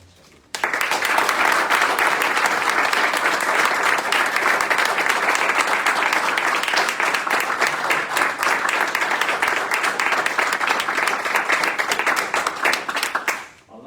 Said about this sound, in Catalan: un fort aplaudiment per el que heu aconseguit